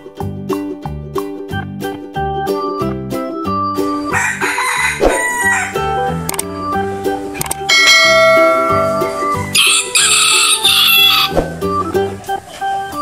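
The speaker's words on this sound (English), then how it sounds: "Ayam. Chicken." A rooster crows loudly and chickens cluck over steady, rhythmic background music, with the calls rising in bursts midway and again near the end. The sounds are presented as a chicken example in a children's animal-sound lesson.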